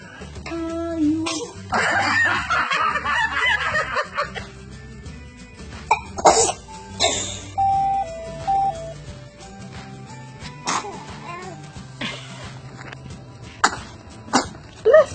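A pet sneezes in a few short bursts amid household sounds, with some faint voices and chirpy noises around it; the sneezes are brief and moderately loud.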